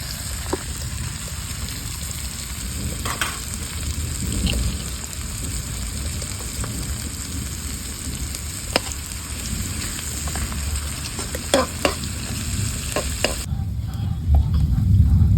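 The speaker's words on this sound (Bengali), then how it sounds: "কেটে রাখা পেঁয়াজ বন্ধুরা এখানে দেবো কুচুনো রসুন" Sliced onion, minced garlic and whole spices (black cumin, dried red chillies, cinnamon, cloves, small cardamom) frying in oil in a pan, with steady sizzle and scattered stirring scrapes that fade near the end, no talking.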